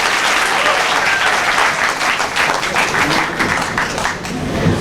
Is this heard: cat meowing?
no